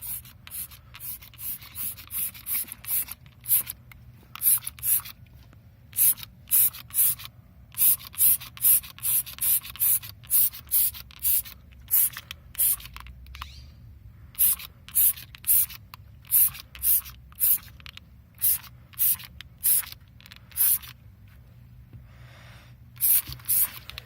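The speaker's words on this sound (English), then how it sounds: "Some spray." Meguiar's Mirror Shine wheel cleaner sprayed from a trigger bottle in a long series of sharp, hissing bursts, some quick and some drawn out, close and fairly loud, with no talking.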